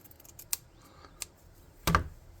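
Scissors snip a paper hood for a tabletop RPG tall walker craft model, a few sharp close cuts spaced out with a louder final snip, quiet surroundings.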